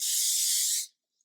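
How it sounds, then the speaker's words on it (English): Olive oil is sprayed from a pump mister onto a stuffed chicken breast, a single steady, close hiss lasting just under a second before cutting off into silence. "I'm going to spray a little olive oil on there too."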